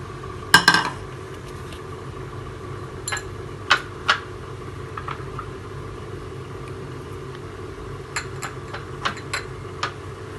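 Cooked macaroni is tipped into a pan and stirred, giving a few sharp metallic clinks and scrapes of a utensil against the pan, spaced irregularly over a low steady background hum.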